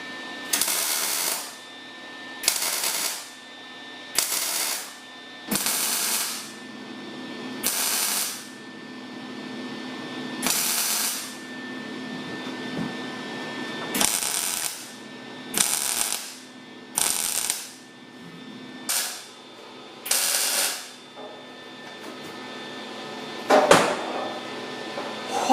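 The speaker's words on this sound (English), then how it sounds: "I can minimize the amount of warpage by alternating welds front and back" A welder lays short tack welds on the front bumper of a 1976 Mazda RX, about a dozen separate crackling bursts of a second or so each, close and fairly loud, with quiet pauses between them.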